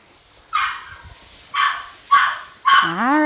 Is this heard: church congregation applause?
no